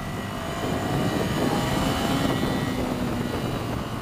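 A Ducati Scrambler motorcycle accelerates hard at full throttle in second gear, a loud steady engine roar building and holding close by for the whole stretch.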